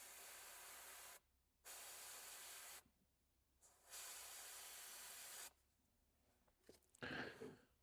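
An airbrush hisses paint through a dot stencil onto a pumpkin craw RK55 crankbait, three steady bursts of spray separated by short pauses, then quieter sputters and a brief gusty puff, close and alone.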